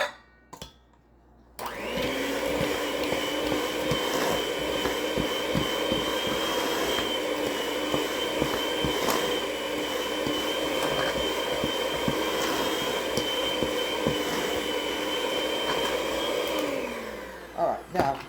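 An electric mixer runs steadily through chocolate chip cookie dough, a loud droning whir that holds for about fifteen seconds and then winds down, with faint clatter before it starts.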